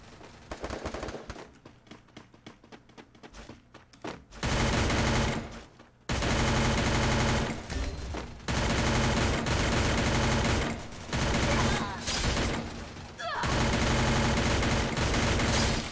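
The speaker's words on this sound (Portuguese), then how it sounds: "o parceiro já levando tiro pelas costas" Rapid automatic gunfire from a Free Fire match, squad-versus-squad mode, comes in loud dense bursts separated by short gaps, with sharp single shots in the quieter opening seconds.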